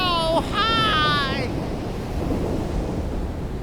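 Cartoon storm at sea, with loud, steady surf and wind rushing past a ship, continuous and close. A voice speaks briefly over the opening.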